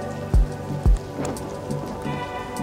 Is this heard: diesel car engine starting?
no